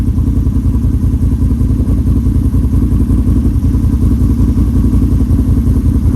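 A 2022 Can-Am Renegade 1000 XXC ATV with an HMF exhaust and ECU flash drones steadily at high revs on a top-speed run, a loud, close, continuous engine roar with a rapid pulsing beat and no letup.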